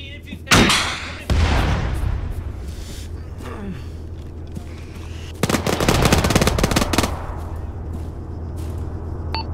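A tank firing in Arma 3, a sharp loud blast followed by another heavy report and rumbling tail, then a dense crackling burst of gunfire, with a gasp and battlefield noise between.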